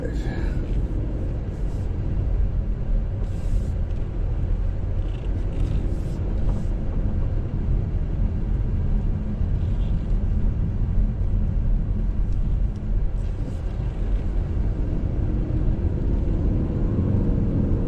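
A 2024 Chevrolet Malibu LT on the road, its steady low engine and road rumble droning continuously at moderate level, with some faint interior noises on top.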